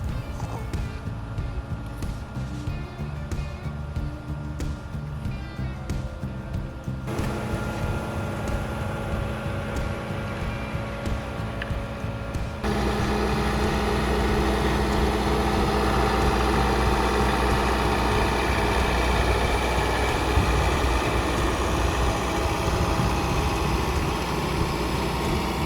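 A tractor engine runs steadily while it lays plastic mulch with a Rain-Flo 2370 layer, a continuous rumbling drone that grows louder and rougher partway through as the machine works along the row.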